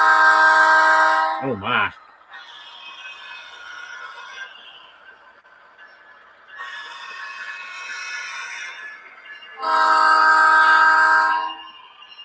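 A Kato model train running DCC sound sounds its horn in three loud, sustained blasts: one at the start and two longer ones later. A quieter rumble runs between them, and a voice briefly exclaims.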